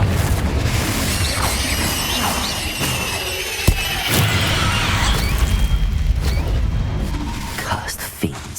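A fiery Confringo spell blast from Hogwarts Legacy goes off amid in-game combat, a sharp short burst rising out of a busy rumbling mix of effects, with game character voices around it.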